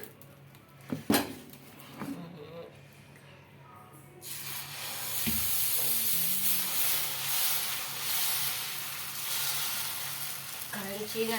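A few knocks and clatters, then Kadapa karam dosa batter hits a hot pan and sizzles steadily, a loud close hiss that continues to the end.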